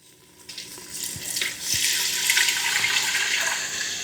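Liquid pouring into a cooking pot for stew, a rising, splashy gush that builds and continues steadily, close and moderately loud with no talk.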